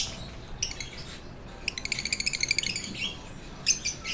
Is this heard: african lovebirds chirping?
yes